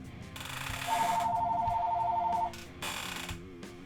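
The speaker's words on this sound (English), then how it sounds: "Phone." A telephone rings indoors with a single electronic trill lasting about a second and a half, close and moderately loud, amid some faint clatter before and after.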